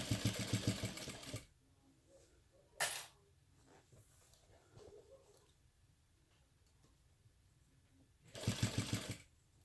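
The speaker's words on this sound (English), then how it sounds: "you want to start sewing right where you stopped sewing from the other side, then back stitch" A sewing machine stitches and back stitches a crossbody bag, giving two short close bursts of rapid rhythmic needle clatter at the start and end, with a brief clack and quiet handling between.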